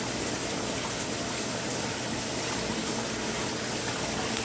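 Water running steadily into the drain of a self-cleaning aquaponic fish rack filter working like a skimmer, a continuous close rushing gush with no breaks.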